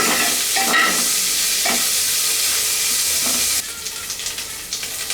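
Ingredients for Kashmiri pulao fry in a pan with a loud, dense sizzle, broken partway by the sound of stirring and a few scrapes, close and with no talk.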